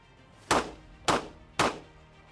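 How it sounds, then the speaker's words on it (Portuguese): Three sharp, loud gunshots crack at a shooting target in a firearms demonstration, evenly spaced about half a second apart, each with a short decaying tail and no talking. "Os disparos foram lá no alvo."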